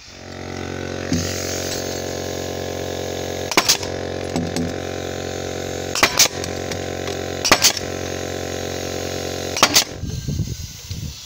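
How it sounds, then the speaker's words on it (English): A strap shot nailer fires 38mm twist nails into tanalised treated timber joist hangers on a deck base frame, four sharp loud cracks spaced a second or two apart over a steady motor hum. "strap shot nailer. Nails stick out the end so you can get them in the holes easier."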